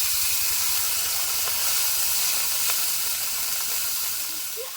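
Water poured into a hot pan of chopped onions sets off a loud, steady steam hiss that fills the whole stretch and eases off slightly toward the end.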